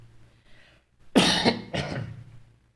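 Two sharp coughs close together, loud and near, following a quiet stretch, with a faint throat-clearing quality and no talking.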